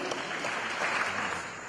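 Congregation applauding in a church service after a healing testimony, a brief, fairly faint wash of many hands clapping at a distance.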